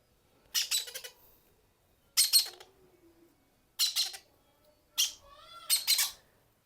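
Several harsh squawks from a yellow-sided conure parrot in separate bursts with pauses between, close and fairly loud, ending in a quick double call.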